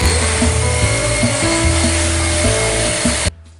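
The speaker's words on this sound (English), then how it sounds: "I give it a slight hit with the sander to remove all the markings and give the surface the last finishing touch" A power sander gives the final smoothing pass over a shop-built router table surface, a loud, dense whirring grind heard up close that runs steadily for about three seconds before stopping abruptly.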